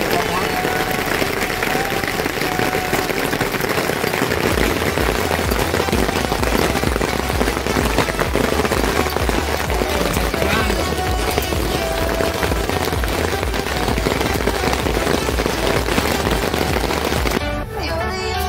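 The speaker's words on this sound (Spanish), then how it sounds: "Granizo lo que está cayendo." Hail pelting down outdoors at a campsite, a dense continuous loud rattle and patter across the whole stretch with steady drumming on a surface, while people talk faintly underneath.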